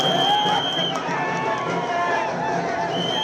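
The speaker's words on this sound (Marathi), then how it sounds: "आझाद मैदानातली ही आंदोलकांची गर्दी" Large crowd of Maratha reservation protesters gathered at Azad Maidan in Mumbai, a steady dense roar of voices and shouting with a loud whistle-like tone cutting through.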